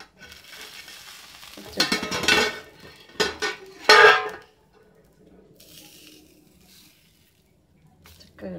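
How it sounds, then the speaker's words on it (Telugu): A lid clatters down onto a pan while an uttapam cooks, a short burst of metallic knocks and scrapes over a faint sizzle that then settles back to quiet frying. "కొంచెం సేపు మూత కూడా పెడదాం, పైన కూడా ఉడికిపోతుంది అందుకని"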